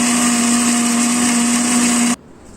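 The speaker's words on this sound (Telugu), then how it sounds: "వేసి ఇవి కూడా మెత్తగా పేస్ట్లా గ్రైండ్ చేయాలండి" A mixer grinder whirs loud and steady while grinding tomatoes and green chillies into a paste, a high motor whine that cuts off abruptly near the end, leaving quiet.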